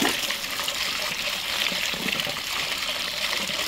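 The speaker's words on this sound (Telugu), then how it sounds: "ఇలా మొత్తం పసుపు అంతా కూడా మనం వాష్ చేసుకోవాలి" Harvested turmeric being washed in water, a steady splashing, trickling wash held close and fairly loud throughout with no break and no voices.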